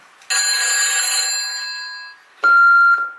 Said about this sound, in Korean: 마크 있으면 전화 좀 받아봐